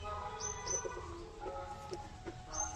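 Newly bought racing pigeons coo softly in a low, rolling murmur with a few faint chirps, over a steady background hum.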